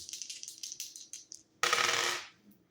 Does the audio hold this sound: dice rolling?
yes